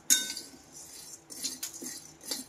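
Dry sabudana (tapioca pearls) stirred constantly while roasting in a pan over a full-flame gas stove, giving scattered light clinks and scrapes of a spoon against the pan, soft and close with brief louder taps.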